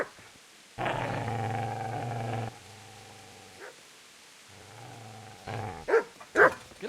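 A dog growls at a man in the medieval video game Kingdom Come: Deliverance, a low sustained snarl in two long bursts with sharper noises at the end.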